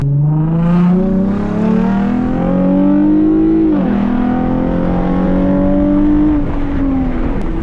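A modified Lexus IS350 engine revs loud and close, its tone climbing, dipping sharply near the middle and then rising and holding again, with no talking over it.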